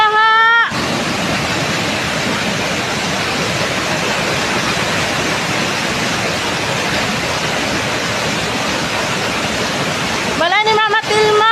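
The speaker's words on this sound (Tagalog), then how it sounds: "makikita natin kung gaano kalakas ang ragasan ng baha" Strong floodwater rushes in a dense, loud, continuous roar in a flooded area of Maasim, Sarangani, with brief bursts of people talking at the start and end.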